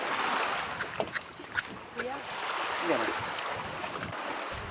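A boat holed after striking a rock moves on open water toward an island, with steady wind and wave wash filling the scene and faint voices and knocks scattered through it.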